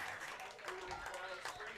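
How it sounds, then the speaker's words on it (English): Eudora Cardinals fans cheering and clapping after an overtime goal at a high school boys soccer game, with a steady distant crowd roar and scattered applause beneath a commentator talking. "The Cardinals fans cheer their team, and they deserve it."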